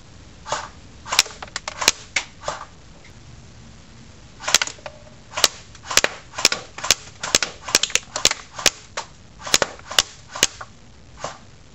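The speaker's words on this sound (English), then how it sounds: "I'll be walking about 15 feet shooting through the target." A G&G M14 SOCOM airsoft rifle fires at a target from about 15 feet, sharp snappy cracks in irregular bursts, some single and some in quick pairs, with no talk over them.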